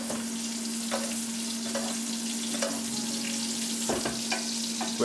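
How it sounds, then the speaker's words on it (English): Steak frying in a pan while being basted with garlic butter sauce, a steady close sizzle with soft spoon scrapes and splashes recurring throughout. "what I like to do as well is just baste the meat with this garlic and butter sauce"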